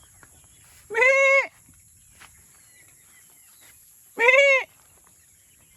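Goats on a farm bleating twice, two loud close calls a few seconds apart with quiet background between.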